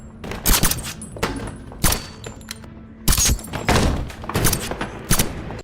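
Gunfire in a movie as a man shoots at guards inside a building after climbing the stairs, several sharp loud shots in quick bursts with heavy thuds and echoing booms, alone without speech.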